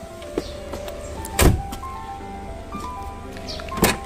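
Door of a red Kia All New Pride hatchback with a noisy door lock, heard as two loud thuds a couple of seconds apart over faint background noise.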